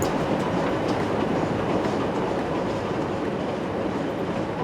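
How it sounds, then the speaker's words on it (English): Train running on rails in the Rail Route video game, a steady rumbling rail roll with faint clickety-clack wheel rhythm, continuous and fairly loud with no speech over it. "So I will go ahead and turn that train around and do that."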